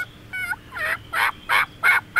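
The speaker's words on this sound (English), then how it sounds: "listen for that first gobble of the year" Wild turkey gobbling in rapid succession, a series of about six loud, close, rattling bursts repeating at a quick even pace, with no voices over it.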